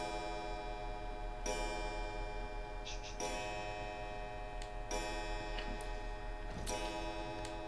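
A clock ticks in Resident Evil 7 with slow, steady, evenly spaced strikes over a faint low hum in an otherwise quiet room.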